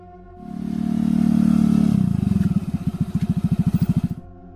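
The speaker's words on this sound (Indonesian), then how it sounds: "Hingga akhirnya suara motor memecahkan lambunanku." A motorcycle engine approaches, first a steady rising drone, then a rhythmic pulsing idle as it pulls up close, loud and alone before cutting off.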